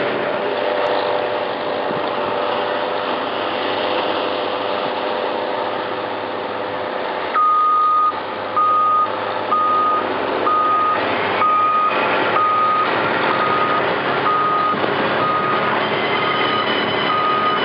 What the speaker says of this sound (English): Bulldozer going backwards and the pipe mover coming forward.